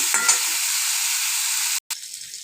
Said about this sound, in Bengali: দেখো আলু আর ফুলকপিগুলো একটু ভেজে নিচ্ছি